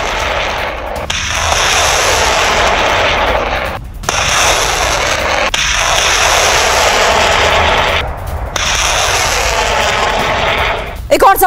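Russian self-propelled howitzer artillery firing on positions, heard as a loud, continuous roar with a few abrupt breaks, dense and close throughout.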